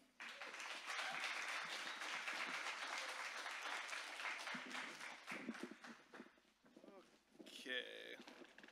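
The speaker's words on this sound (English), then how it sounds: "Please give him a round of applause." Audience applause at an indie game showcase in Portland, Oregon: a sustained crowd clapping fills the room for several seconds, then thins into scattered claps and shuffling.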